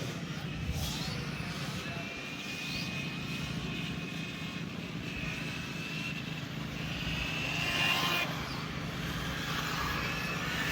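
Small RC Euro trucks race around an on-road track, their high electric whine rising and falling as they pass, fairly faint and distant, with a louder surge as they sweep by near the end.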